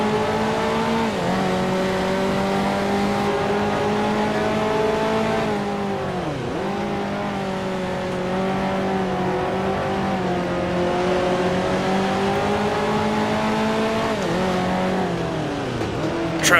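1955 Formula 1 race car engines in a Grand Prix Legends simulation scream steadily at high revs, with pitch dips as the cars lift and shift through corners, loud and continuous with no talking.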